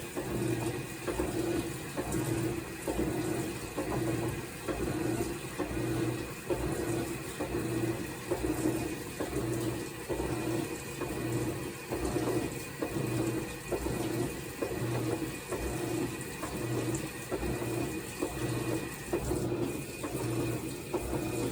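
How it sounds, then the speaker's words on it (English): Water pours into the tub of a Whirlpool washing machine, a steady rushing fill with a soft pulsing, repetitive rhythm, moderately quiet and continuous, with no talking. "more water will go in and start filling up in the tub again"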